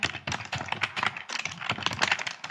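Someone types on a computer keyboard while entering text into an Outlook email signature, producing quick, close, irregular key clicks in short bursts with a brief pause midway.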